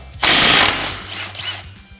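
A nut comes off the shock on a Can-Am Commander side-by-side in one loud, rapid burst of power-tool rattling, about half a second long, followed by quieter clinks and shop noise.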